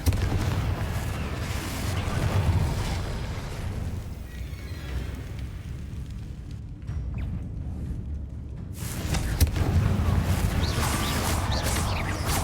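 Confringo spell explosions go off in Hogwarts Legacy during a fight with inferi, a dense, loud run of booming blasts and rumbling impacts that continue almost without pause and dip briefly near the middle.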